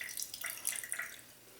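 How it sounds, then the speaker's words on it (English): Juice from sauerkraut is poured into a jar for canning with pork, a brief, close trickling splash lasting about a second and tapering off. "So I'm gonna pour off some juice."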